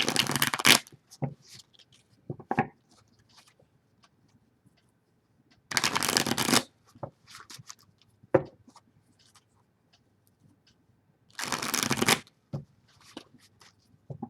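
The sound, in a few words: shuffling tarot cards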